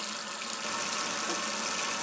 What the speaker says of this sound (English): first thing I've got to do is run the hot water for about 2 minutes here